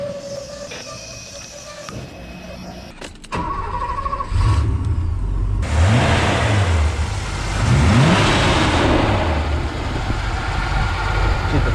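Porsche 928 pulling away and accelerating while driving, the engine rising in pitch through two gear changes over a rushing cabin drone, heard from inside the car.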